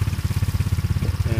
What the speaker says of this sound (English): sorry about the sound of the engine, I just pulled it out of the garage